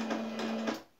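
A Singer electronic sewing machine runs on its own in a short, close burst. It whirs steadily with a constant tone and a few faint clicks, then stops near the end.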